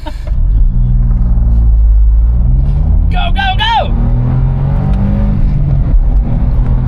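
A Smart car accelerates hard from a standstill toward 60 mph, its small engine droning and rising steadily in pitch under excited shouting from people inside.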